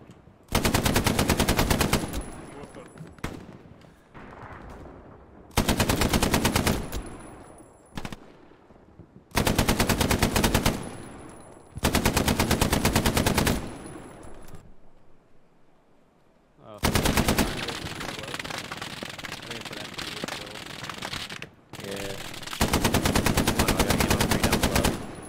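Machine gun from a realistic shooter fires in long, dense bursts of rapid shots, loud and close, separated by short pauses, with a quieter stretch in the middle.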